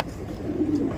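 A single pigeon gives a brief, low coo at close range, heard alone for about a second.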